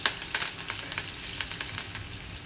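Crushed garlic and curry leaves sizzle in hot oil for a Konkani-style tempering: a steady, close crackle with small pops and no voices.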